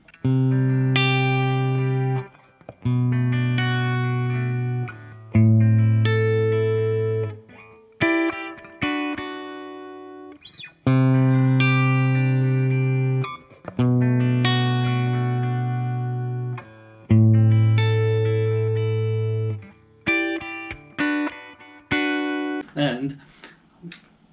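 Sustained electric guitar chords from a 2008 Gibson Les Paul Standard Plus on the bridge pickup, strummed in long held bursts, warm and slightly distorted, ringing out with short gaps between strums.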